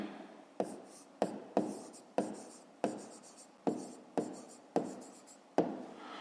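Pen or pencil writing by hand on paper while solving a math exercise, a series of about a dozen soft scratchy strokes close up, each starting sharply then trailing off, in a quiet room.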